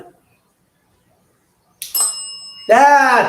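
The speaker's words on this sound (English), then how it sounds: "There, see the bell?" A small metal bell struck twice after a near-silent pause, a first short ring then a louder, bright sustained ring with shimmering overtones that keeps sounding to the end.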